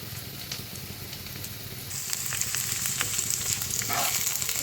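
Potatoes frying in a pan for a morning ghugni tiffin, a steady close sizzle and crackle that grows brighter and louder partway through, with a few stirring scrapes.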